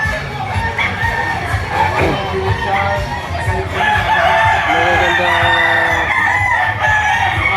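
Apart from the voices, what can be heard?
rooster crowing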